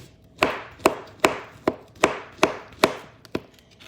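A knife slicing a banana on a wooden board, nine evenly spaced crisp knocks about half a second apart, close and clear, with no talk.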